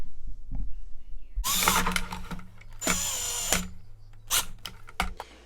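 A power tool drives nuts down onto screws with rubber washers while building a wade fishing box, several short whirring bursts separated by pauses, close and loud, with a low hum between them.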